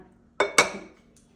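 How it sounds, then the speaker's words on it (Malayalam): A pressure cooker is set down on a gas stove with two quick, sharp metallic clanks close together, ringing briefly before quiet returns. "കുക്കർ വെക്കാം"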